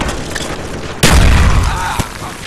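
A frag grenade goes off in Call of Duty Black Ops, one sharp, loud blast at about one second followed by a rumbling tail and a smaller crack near two seconds amid game noise.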